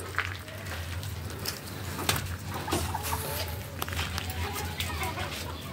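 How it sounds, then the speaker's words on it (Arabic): A hen clucks and squawks in a backyard coop after laying an egg, with sharp repeated calls over steady background noise and people talking nearby. "الفرخة بتاعتنا باضت البيضة ما شاء الله"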